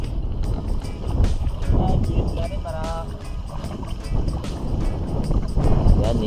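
Wind gusting outdoors by a river where rice is being cooked, a steady rushing roar with mic buffeting that swells and fades, heard under people talking nearby.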